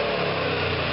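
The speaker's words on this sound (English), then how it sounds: "As you can hear, he's revving the engine." A parked truck's engine is revved hard beside a curb, producing a loud, steady, high-pitched roar that holds at a constant level without a break.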